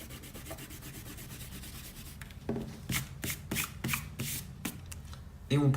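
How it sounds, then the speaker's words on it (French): Pencil construction lines rubbed out with an eraser on paper while drawing a Fortnite banana emoji, a steady soft scrubbing that swells into several distinct brisk strokes near the end, close and fairly quiet. "Et gommer nos traits de construction."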